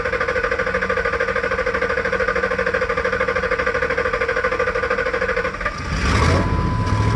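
A computer-controlled engine running on propane drones steadily at a held throttle with a rhythmic pulsing beat, then the tone shifts and roughens near the end as the running changes, loud and close with no talk.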